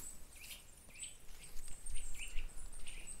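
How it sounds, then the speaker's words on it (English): Birds chirping in quiet autumn woods, a series of short, high calls repeating at a moderate distance over soft rustling and patter. "And the birds are chirping nicely."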